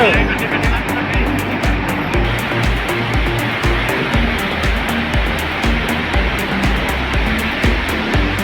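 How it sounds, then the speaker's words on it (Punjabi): A Delhi-bound train passes near a canal and the swollen Satluj River. The rumble is low and rhythmic, with regular clacking pulses over a constant rush of floodwater, and someone talks over it. "ਸਾਹਮਣੇ ਜਾ ਰਹੀ ਹੈ ਜੀ ਦਿੱਲੀ ਵਾਲੀ ਟ੍ਰੇਨ"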